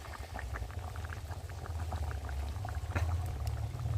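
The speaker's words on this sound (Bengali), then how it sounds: "ধনেপাতা আর মাছ দিয়েছি, ভালো করে ফুটে গেছে" A pot of fish curry with potatoes, broad beans and chopped coriander bubbles at a rolling boil, with a dense low burble and frequent small pops close by.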